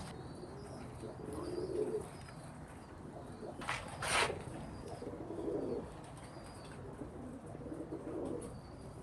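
Teddy pigeons at a breeder's loft give soft, low cooing calls beneath a steady noisy background, with a couple of brief sharp chirps or wing sounds near the middle.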